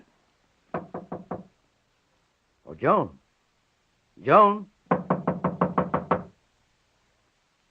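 Someone knocks on a door in an old-time radio drama, Mr. Keen, Tracer of Lost Persons: a quick run of four raps, then a longer run of about eight. A man calls out between the two runs.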